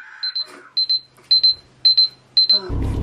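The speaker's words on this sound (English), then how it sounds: "timer's done, okay?" A kitchen timer alarm goes off in a home, sounding as repeated pairs of high electronic beeps in a steady rhythm, close and clear, before a louder rumbling noise cuts in at the end.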